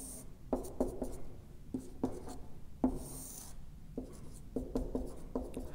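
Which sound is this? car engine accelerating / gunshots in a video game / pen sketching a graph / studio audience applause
pen sketching a graph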